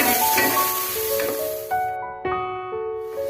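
Turmeric and red chilli powder frying in a pan for palak paneer, a soft sizzle broken by a few scraping stirs, with ringing tonal sounds on top and no talk.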